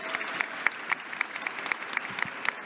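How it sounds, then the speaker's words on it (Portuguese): An audience at a book fair panel applauds a newly welcomed guest, sparse and moderately quiet clapping with distinct individual claps spread through the room. "Palmas para a Letícia, bem-vinda!"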